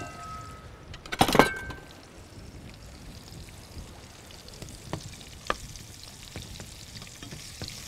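Garlic and onion sizzle in a pan while being stirred, with one loud scraping clatter near the start and a steady frying hiss throughout, broken by a few light clinks.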